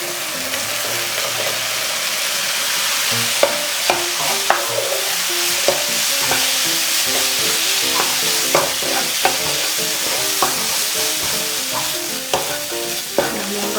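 Dried shrimp stir-fried in bubbling seasoning sauce over medium heat, a continuous close sizzle with irregular scraping and clacking of a spatula against the pan, no voices.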